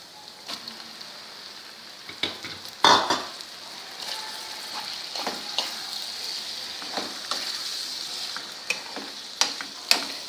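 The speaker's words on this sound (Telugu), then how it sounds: "ఇప్పుడు ఇందులోనే రొయ్యలు వేసేస్తున్నాం." Prawns sizzle and fry in a hot pan for an Andhra prawn curry, a constant crackling hiss broken by sharp spatters and stirring scrapes, close and loud.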